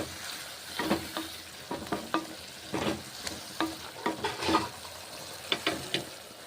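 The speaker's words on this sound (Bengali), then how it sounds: "হলুদ গুঁড়ো দিচ্ছি জল দিচ্ছি নেড়ে চেড়ে নিচ্ছি" Bitter gourd with turmeric and water is stirred in a pan, giving repeated scraping and bubbling sizzle bursts in an irregular rhythm, close and moderately loud, with no talking.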